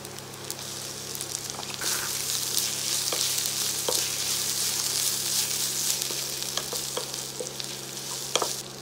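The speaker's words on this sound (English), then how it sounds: "Fry until the raw smell is going away. Add the grated turmeric." Grated fresh raw turmeric frying in a pan for a Rajasthani curry, a steady close sizzle and crackle with occasional sharp pops, no voices.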